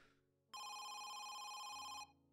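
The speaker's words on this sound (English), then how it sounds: "That's like my natural reaction to hearing a phone ring." Phone ringing in the video game Home Sweet Home: a single sustained electronic ring tone starts abruptly, holds loud and steady for about a second and a half, then cuts off, with no talk over it.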